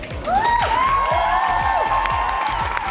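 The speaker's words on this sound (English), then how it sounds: "please give us a big round of applause again for our VIP guests" A concert audience applauds and cheers for VIP guests at a K-pop opening ceremony in London, with loud sustained shrieks and whoops over a dense crowd roar.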